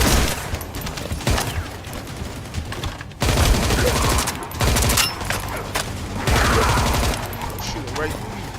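Sustained automatic gunfire from The First Descendant video game, a loud continuous rattle in several long bursts with short breaks between them.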